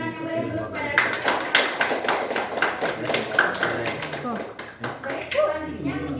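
Audience applause after a school debate session, dense steady clapping from a crowd filling the room, with children's voices and chatter mixed in throughout.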